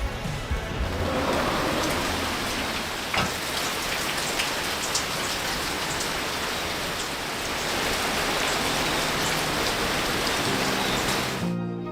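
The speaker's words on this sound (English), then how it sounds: "it's wet season here in Krabi, so it's been raining like every afternoon" Afternoon rain during the wet season in Krabi, Thailand, a dense, even patter of raindrops on surfaces lasting throughout, loud and close with no voices.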